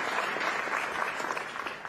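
Applause from the audience at a CEO summit, a dense, even wash of many people clapping, fairly loud and continuous throughout.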